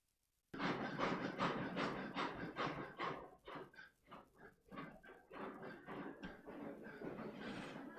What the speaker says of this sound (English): Here we got a train going by us again.